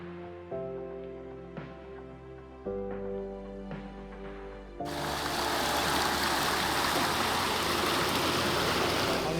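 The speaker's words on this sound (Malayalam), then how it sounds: "ആ വെള്ളച്ചാട്ടം നമ്മുടെ മുന്നിൽ തന്നെ കാണാൻ പറ്റും" A waterfall in the Nilgiris rushes in a loud, continuous roar that cuts in about halfway, after a stretch of soft tonal music, and then holds steady to the end.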